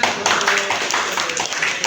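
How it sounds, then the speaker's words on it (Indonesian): A classroom of students bursts into applause at the end of an Islamic religion lesson, a dense, steady patter of many hands clapping close by, with faint voices mixed in. "Tepuk tangan."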